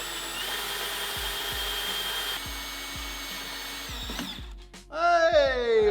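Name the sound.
rivet spinning while being drilled out on project boat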